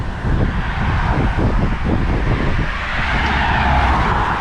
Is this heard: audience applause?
no